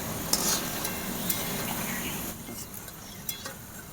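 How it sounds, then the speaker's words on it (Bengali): Sliced potatoes for homemade chips fry in hot oil with a steady, close sizzle and a few light clinks and stirring scrapes, no voices. "তেল গরম হয়ে গিয়েছে, এবারে আলুগুলো আমি কম কম করে দিয়ে দেব।"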